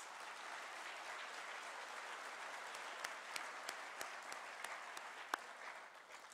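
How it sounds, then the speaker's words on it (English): An audience at a State of the City address claps steadily, a dense sustained patter of many hands heard from some distance, with a few sharper individual claps standing out. "Now that deserves applause."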